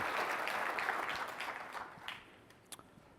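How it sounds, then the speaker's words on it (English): A conference audience at a tech keynote breaks into applause, a dense wash of clapping that fades gradually over a few seconds, with scattered claps at the end. "let's give them a big round of applause."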